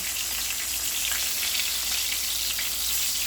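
Pork chops fry in a hot pan with a loud, dense, continuous sizzle and crackle as they are flipped, close up and with no talking.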